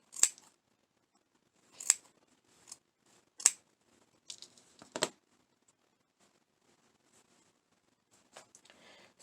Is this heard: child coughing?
no